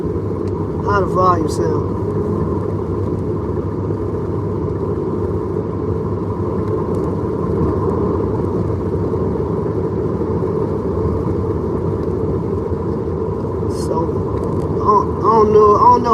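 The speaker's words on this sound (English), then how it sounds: "it's kind of loud in this truck" Steady low engine rumble and road noise fill a vehicle cabin throughout, with a person talking over it.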